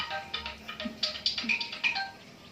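A phone ringtone chimes in short repeated electronic tones over a low background hum, with no talking.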